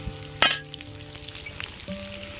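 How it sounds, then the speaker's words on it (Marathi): Egg omelette frying in a pan outdoors, a soft steady sizzle with a sharp clatter near the start and low background hum throughout. "वा वा मस्त फ्राय होतोय"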